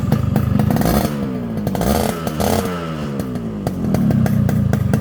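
A modified Yamaha RXS 115 motorcycle engine revs up close, its pitch rising and falling through several blips before settling back to a steady loud run, alone without talk.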